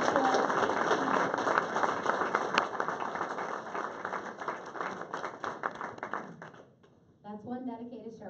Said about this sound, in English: Let's give a round of applause for the sheriff.